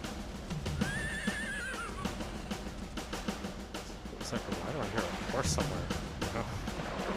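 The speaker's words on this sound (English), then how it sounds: "Why do I hear a horse somewhere?" A horse whinnies briefly at a distance amid a busy mix of game noises, clattering and rumbling effects in Turok 2: Seeds of Evil.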